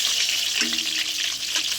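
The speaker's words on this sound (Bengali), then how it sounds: "আলুগুলো দিয়ে দিলাম, ভেজে নেবো আলুগুলো" Potatoes sizzle in hot oil with cinnamon, bay leaves and whole cumin in a pan, a continuous bright hiss with a brief stirring scrape partway through.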